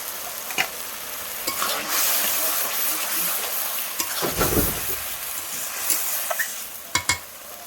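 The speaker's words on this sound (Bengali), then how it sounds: "মশলাটা একটু কষে নিয়ে তবে মাংসটা দেবো" A spice masala for mutton sizzles and hisses steadily in a pan, with close spatula scrapes and stirring knocks throughout and a surge of loud hissing midway.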